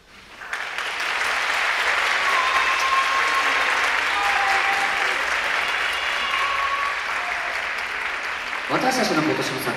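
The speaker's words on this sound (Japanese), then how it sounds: "皆様のお手拍子でご声援いただけたらと思っております" Festival crowd claps continuously as dancers enter for a YOSAKOI Soran festival performance on its final day, a loud sustained wash of applause with faint tonal sounds and a few voices under it, ending in a brief rhythmic knocking.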